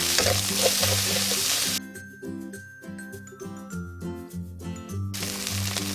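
Garlic fried rice sizzles loudly in a pan as it is stirred and tossed, with a steady hiss and scraping strokes; the frying drops out partway while a tinkling melody plays, then the sizzle returns.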